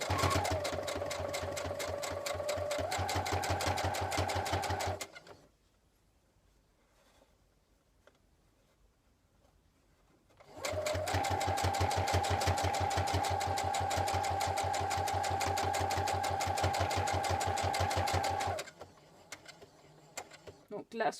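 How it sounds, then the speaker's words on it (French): A sewing machine stitches fabric in two long loud runs of rapid even needle strokes, separated by a quiet pause of about five seconds, then stops with a few faint handling clicks. "Vous pouvez très bien passer sous le pied presseur et aider votre machine en tirant sur les fils."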